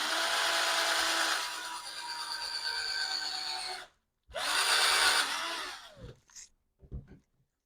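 A power screwdriver drives a screw into a wooden ping-pong table, whirring steadily for about four seconds, then after a brief pause buzzing again with a rising pitch before it stops, followed by a few small knocks.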